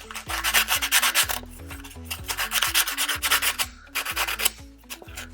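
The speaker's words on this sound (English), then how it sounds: "So back to the sandpaper. I want to just rough up these edges a little bit." Sandpaper rasps quickly back and forth over the paper edges of a small handmade journal, giving close, rhythmic scratchy strokes in bursts with brief pauses.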